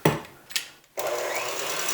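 An electric mixer whips egg whites toward stiff peaks: a few brief knocks and a short pause, then a steady, close motor whir for the rest of the moment.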